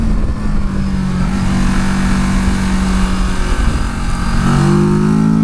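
A 2018 Kawasaki Versys 650 motorcycle engine drones loud and steady up close, then its pitch jumps near the end as the rider shifts down a gear on a twisty road.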